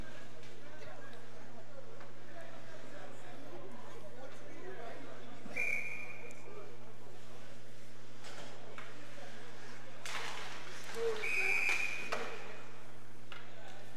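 Referee's whistle at a college ice hockey game between the Temple Owls and West Chester Golden Rams, two short sharp blasts about six seconds apart, heard over rink crowd ambience and ongoing commentary.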